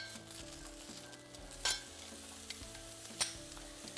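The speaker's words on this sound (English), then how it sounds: "now I have added just a few slices of onion to saute it" Onion slices sautéing in about half a tablespoon of olive oil in a pan sizzle steadily and softly, with a couple of brief utensil clinks and stirring sounds, no talk.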